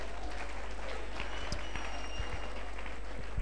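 A church congregation claps, a fairly faint wash of many hands under a constant low hum, with a few louder knocks and thumps near the end.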